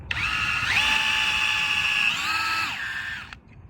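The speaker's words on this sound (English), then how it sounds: "So I drilled the hole." Power drill pre-drilling screw holes to mount a storm door, a loud close whine that steps up in pitch as the bit bites, holds steady, then drops and stops abruptly.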